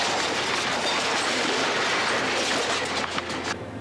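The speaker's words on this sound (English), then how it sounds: "There was no warning of the approaching boxcars." Freight train boxcars rolling along railroad tracks, a loud continuous rumble with rhythmic clickety-clack of wheels over rail joints and faint wheel squeal, heard up close without talk.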